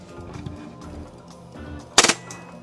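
Novritsch SSQ4 airsoft pistol on green gas with a brand-new magazine fires a short full-auto burst of three rapid sharp cracks, loud and close, after a stretch of quiet low room hum.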